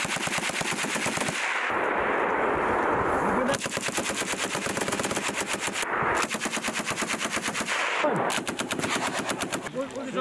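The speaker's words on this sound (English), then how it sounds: "You engage with rapid fire to 11 to 15 round burst." Machine guns firing rapid bursts during paratrooper live fire training in Norway: long, loud automatic bursts with short pauses between, each rattling volley echoing across open ground.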